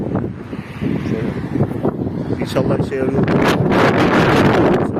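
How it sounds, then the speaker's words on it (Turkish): Strong headwind buffets the microphone of a cyclist touring during a storm in a steady, roaring rush while someone speaks briefly over it. "Rüzgar devamlı karşıdan esiyor"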